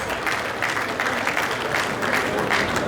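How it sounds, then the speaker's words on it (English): Audience at an engineers' investiture gala night giving a sustained round of applause, dense steady clapping filling the room with no speech over it. "Please give him a presidential round of applause."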